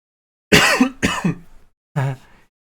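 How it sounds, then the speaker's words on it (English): Two quick, close coughs followed by a third after a short pause, loud and dry against otherwise silent surroundings. "You definitely heard me cough then."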